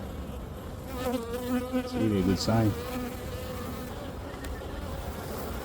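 Honeybees buzz steadily around an open beehive during an inspection, a close continuous drone with a person speaking briefly over it.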